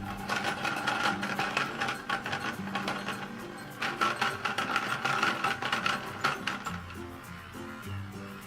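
A toy fruit blender from a magic slime smoothie playset churns a slime smoothie, giving a steady mechanical whirr and buzz that runs close and loud throughout, with a slight dip near the end.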